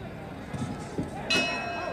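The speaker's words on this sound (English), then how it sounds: "And the bell." A boxing ring bell rings to end a round in the Muhammad Ali versus Jimmy Ellis fight, a single bright clang arriving late in the clip above a steady arena crowd murmur.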